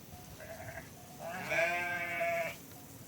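A flock of sheep bleats in a quiet valley: a shorter bleat comes first, then one long, loud, wavering bleat close by, with a faint call trailing after it.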